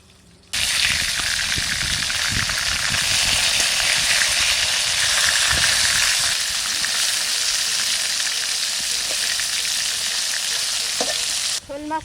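Pieces of snakehead fish fry in hot oil in a village-style kitchen, a loud, dense, continuous crackling sizzle that starts abruptly and holds steady for several seconds before cutting off, with faint clatter underneath.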